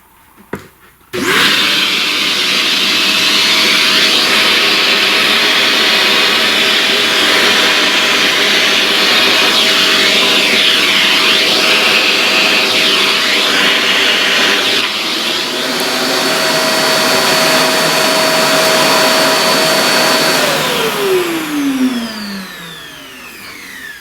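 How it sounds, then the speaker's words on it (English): A vacuum cleaner runs loud and steady, close by, for over twenty seconds, sucking up pastel dust around a drawing area; a click starts it, the motor pitch dips mid-run, then it winds down at the end. "let's vacuum up some of this mess"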